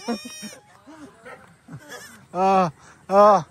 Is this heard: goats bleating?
yes